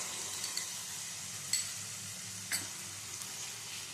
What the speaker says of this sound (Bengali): এবারে মশলাটা মিনিট মানে তিন চারেক ধরে কষিয়ে নিতে হবে